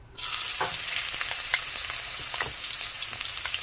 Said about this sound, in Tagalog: Dahil mainit ng ating mantika guys, ilagay na natin ang ating bawang